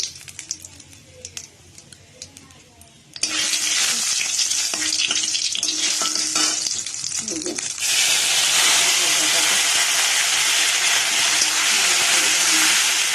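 Whole cumin, bay leaves and dried red chillies hit hot oil in a pan, setting off a loud, steady sizzle that jumps up suddenly and surges even louder partway through, with quieter kitchen sounds before it.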